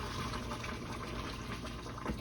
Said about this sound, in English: Pour some of that water off of there, right in the sink.